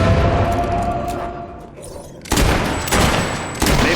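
Gunfire rings out in the video game Fable 3, loud bursts of several rapid shots in quick succession with a noisy battle in the background and no talking.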